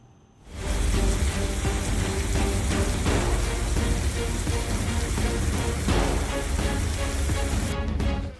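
Heavy rain pours down in a dense, steady roar that stays loud and close for most of the stretch, broadband and unbroken, with no voices over it.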